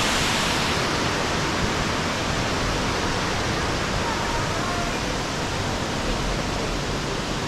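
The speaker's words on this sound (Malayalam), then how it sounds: "വെള്ളച്ചാട്ടത്തിൻ്റെ ശബ്ദം കാരണം ഭയങ്കര ശബ്ദമാണ് ഇവിടെ" A loud waterfall at Karakam produces a dense, unbroken roar of water falling under high pressure. The close, constant wash of noise fills everything, with no pauses.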